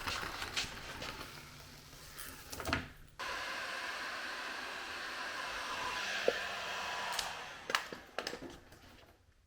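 A heat gun blows a steady, moderately quiet airy hiss while warming a window seal on a BMW E36, with a few brief handling clicks and rustles around it.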